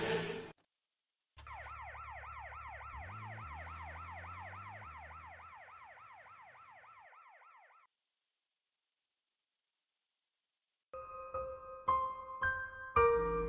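A wailing ambulance siren rises and falls in steady cycles for several seconds over a low engine rumble, then cuts off; later, sharp electronic tones sound.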